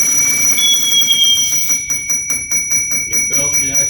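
High, insistent low-air alarm bell on an SCBA breathing apparatus pack. It starts as a steady tone, then breaks into rapid, repeated ringing pulses over a continuous background hiss.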